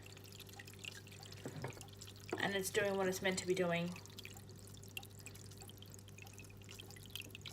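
An aquarium filter in a home fish tank spitting out water, a steady, soft trickling and splashing that runs throughout at close range, with a person briefly talking over it midway.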